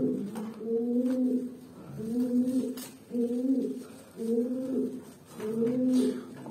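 A domestic pigeon nesting on its eggs coos close by in a repeated series of low, throaty rolling calls, about five phrases with short pauses between, and no talking.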